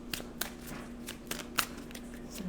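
Tarot cards shuffled by hand close to a microphone, giving a quiet run of crisp, irregular riffling clicks and slaps over a faint steady hum.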